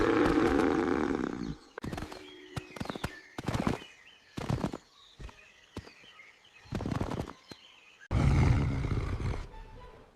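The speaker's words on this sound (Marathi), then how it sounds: "हा आवाज सिंह महाराजांचा आहे." A cartoon lion caught in a hunters' trap in the jungle lets out roars in broken bursts, loudest at the start and at the end, with short gaps of quiet between them.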